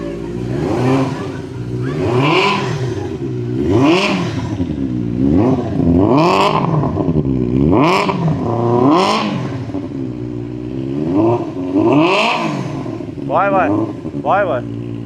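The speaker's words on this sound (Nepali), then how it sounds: "सो यो बाइकको साउन्ड सुनौँ है।" A Benelli 600i motorcycle engine starts and then revs repeatedly, loud and close, each blip climbing and falling back in a series of bursts that quicken toward the end.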